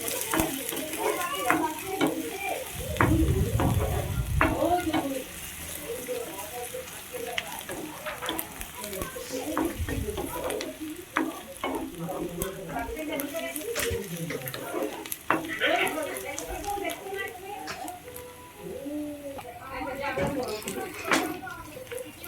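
Chopped onions sizzle and fry in a pan while being stirred, with scraping and clinking of a utensil against the pan throughout and someone talking over it.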